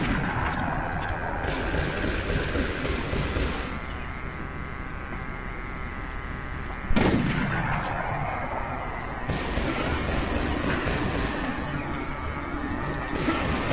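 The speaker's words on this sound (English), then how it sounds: "I don't know what my goal here is, what I'm shooting at with these." Gunfire in the video game Resident Evil: Operation Raccoon City, sharp shots with one loud blast standing out above a dense, constant game soundscape.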